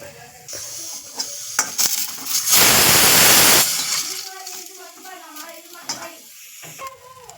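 Green chillies with tomato hit hot oil for sambar, giving a loud burst of sizzling for about a second, then a softer crackle with a spoon stirring and clinking against the pan while someone talks.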